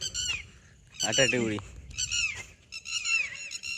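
Birds call near a forest pond in the Konkan countryside, giving a series of close, harmonic honking cries in short bursts, with quieter low background sound between them.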